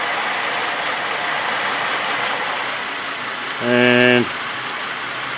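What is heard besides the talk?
VZ Commodore engine idling with a misfire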